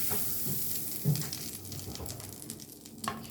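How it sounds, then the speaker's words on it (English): Butter sizzling in a pan while a ground beef quesadilla fries, a steady soft hiss with a few faint scrapes and bumps, quiet and close, no talk. "we're gonna hold it up while we spread some butter in the pan"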